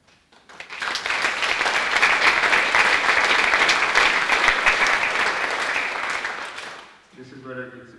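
Concert audience at an autumn benefit concert for Cudeca breaking into sustained, loud applause that swells in, holds steady, then fades, followed by someone briefly speaking.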